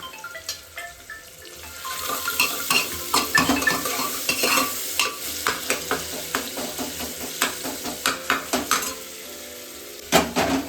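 Onions frying in a pan for a simple pulao, with a spoon stirring and scraping in repeated clinks over a steady sizzle, close and fairly loud, with no talking.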